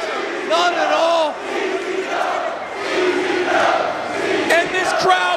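A loud wrestling crowd at a live independent pro-wrestling show cheers and roars continuously, with surging shouts and whistles rising and falling across the whole stretch.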